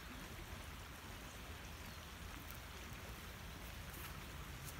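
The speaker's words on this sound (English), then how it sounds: "Can you hear the creek in the background?" A creek swollen after rain runs steadily in the background, producing a faint, continuous wash of water noise with no talking.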